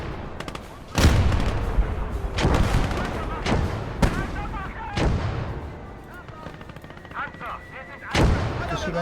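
Heavy booms of cannon and gunfire repeat every second or two in a World War II video game battle set in France, loud and reverberant, with a voice talking over the blasts.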